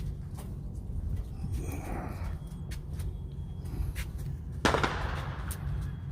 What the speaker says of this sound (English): there's a firecracker off there